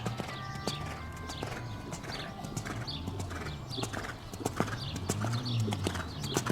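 Horse hooves beating in a steady three-beat canter rhythm on an arena surface during a dressage lesson, close and clear, with a few snorts and faint equipment creaks between strides.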